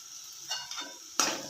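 A spoon stirs chopped coriander into horse gram curry in a pan, giving a few short scraping strokes with a faint sizzle and one sharper clatter near the end, close and alone.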